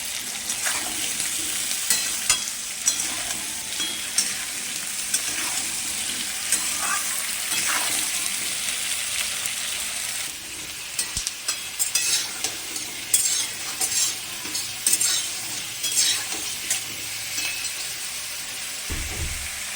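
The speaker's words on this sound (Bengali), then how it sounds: "এইবার তেল গরম হয়ে গেছে, তেলের মধ্যে আলুগুলো ছেড়ে দেওয়া হচ্ছে।" Potatoes fry in hot oil in a pan for spicy pulao, a dense, steady sizzle heard up close, with the later half broken by irregular clatters of a spatula stirring against the pan.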